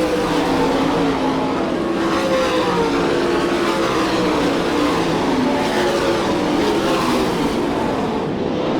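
Sprint cars racing on a dirt oval at Hartford, Ohio, a dense, loud roar of several engines overlapping, pitch rising and falling as cars pass, continuous throughout.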